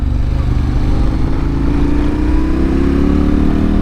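A KTM 1290 Super Adventure's V-twin engine drones loud and close while riding, with its pitch rising steadily as the bike accelerates under wind rush.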